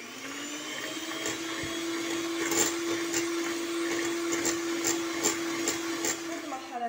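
An electric hand mixer whirs steadily as it beats coffee cake batter, a constant high motor whine with faint clicks of the beaters against the bowl.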